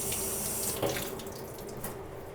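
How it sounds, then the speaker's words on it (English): Running tap water streams steadily over fresh farm rosemary being rinsed in a sink, a continuous close splashing hiss with no talking. "I'm just giving it a little rinse to get off any dust from the farm."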